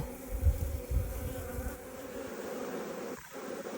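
Honeybees buzz softly and steadily close by in a freshly opened hive, a low droning hum with a couple of dull thumps near the start.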